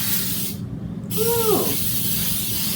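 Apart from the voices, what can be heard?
cooking spray sprayed into a crock pot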